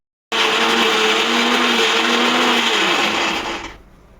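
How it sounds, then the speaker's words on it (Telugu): A mixer grinder roars at full speed, grinding mint chutney without water; the loud steady whir starts abruptly, holds for about three seconds with a slight drop in pitch, then winds down and stops. "వాటర్ వేయకుండా మిక్సీ పడతాం"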